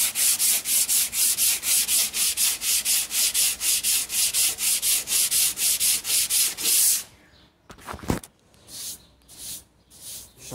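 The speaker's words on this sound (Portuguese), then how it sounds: "Agora vamos lixar essa peça toda aqui e ver o que acontece." Hand sanding a primed car fender with sandpaper: rapid, steady back-and-forth scraping strokes fill the first seven seconds, then a few slower, softer passes follow after a brief pause.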